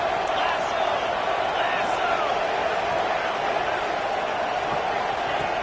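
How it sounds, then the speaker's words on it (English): Stadium crowd at a college football game between FSU and Miami, a steady loud roar of cheering with no pauses, filling the whole stretch without any talk over it. "Crowd trying to make an impact, helping the defense on this crucial play."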